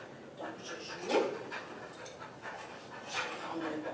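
A dog panting and making small whimpering sounds during tug-of-war play with a toy, with quick breathy huffs close by and one sharper yip partway through over light room noise.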